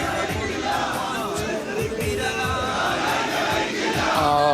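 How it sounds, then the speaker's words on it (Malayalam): A large crowd of thousands gathered to see VS, a dense murmur of many voices with scattered shouts, sustained and fairly loud throughout. "പിന്നില് ഇന്നലെയും ഇന്നുമായി നമ്മൾ കാണുന്നത് ആയിരക്കണക്കിന് മനുഷ്യരെയാണ്"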